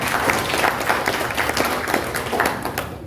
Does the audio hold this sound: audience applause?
yes